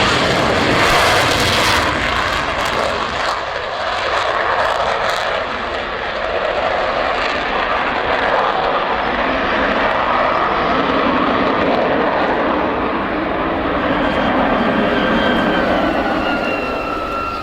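A loud, steady roar of an Avro Vulcan jet bomber passing overhead at an airshow, broadband rumble sustained throughout with no voices.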